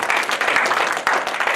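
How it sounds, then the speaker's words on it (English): An audience at a banquet applauds with a brief burst of dense, close clapping that continues steadily throughout. "If you clap it up for that as well."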